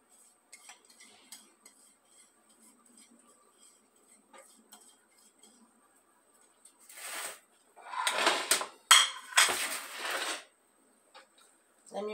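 A utensil mixes sauce ingredients in a pot for fried yam and toasted fish, with faint scattered clinks that give way to a few louder bursts of scraping and stirring.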